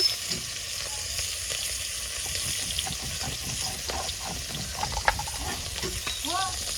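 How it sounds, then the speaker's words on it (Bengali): Cauliflower pieces fry in hot oil in a home kitchen, a steady close sizzle with scattered crackles and occasional stirring or utensil clinks throughout. "ফুলকপিগুলো এই দিকে ভাজা হোক"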